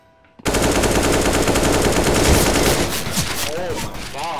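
Rapid automatic gunfire in the video game CS:GO, loud and continuous for about four seconds after a brief quiet start, with a voice calling out under the final shots.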